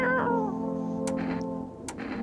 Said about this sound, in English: Oh, here's the kitty.